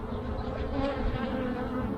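Honeybees buzz steadily inside a hive where new comb is being built, a dense, continuous drone that stays close and even throughout with no voices.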